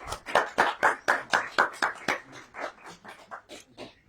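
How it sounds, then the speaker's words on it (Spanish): Rhythmic, evenly spaced clapping from a small audience welcoming a guest speaker at a talk, about a dozen sharp claps fading slightly toward the end, fairly quiet and close. "Vamos a darle un fuerte aplauso,"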